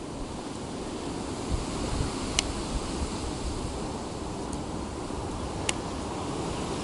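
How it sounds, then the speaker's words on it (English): Strong wind blowing outdoors in cold weather, a continuous broad roar buffeting the microphone, with a few faint high chirps cutting through. "And also it's very windy and it's still cold."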